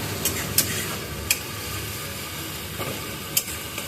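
Spice paste fried and stirred in a pan for a chicken curry, steady sizzling with several sharp utensil scrapes and taps against the pan, close by, no voices.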